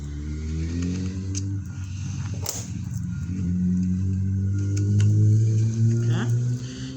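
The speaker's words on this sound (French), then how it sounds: "C'est pour ça que vous entendiez beaucoup les voitures ou les motos." Cars and motorbikes pass outside an open window, a steady close engine rumble and rising revving with a brief clatter, continuous through the clip.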